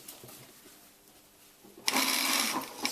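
A sewing machine stitches down fabric while altering hot pants, starting with a quiet lead-in and then a loud steady run of rapid mechanical stitching for the last second or so.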